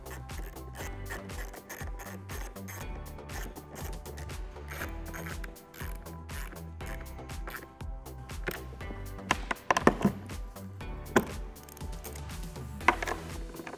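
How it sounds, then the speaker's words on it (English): Hand ratchet with a 10mm socket tightening bolts on a cold air intake for a 2018-2021 Mustang GT, giving rapid close clicking bursts in irregular runs with a few sharper taps near the end. "Take our 10mm socket and tighten these down."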